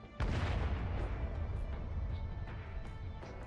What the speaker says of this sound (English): A massive explosion goes off in the distance.